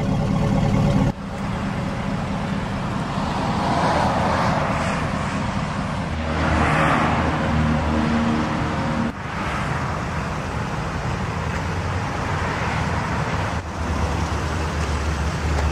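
2004 Cadillac Escalade with a 6-liter Vortec V8 and stainless steel exhaust tip, giving a steady low exhaust rumble that swells and eases a few times over about fifteen seconds, close and continuous with no speech.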